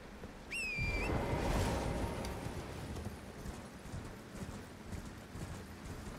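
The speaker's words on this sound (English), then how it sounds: "Let's do some horse riding" Horse hoofbeats while riding in the video game Elden Ring, a soft, rapid patter of clopping beneath a quiet ambient bed, opening with a brief rising tone before the steady gait settles in.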